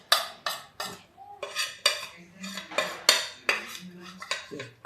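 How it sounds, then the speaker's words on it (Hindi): Salt and roasted spices, including dry-roasted cumin, are mixed together with a spoon, making a quick series of sharp clinks and scrapes against a metal bowl in an uneven rhythm. "तो ये चलिए इनको सबको हम एक साथ मिक्स कर देते हैं"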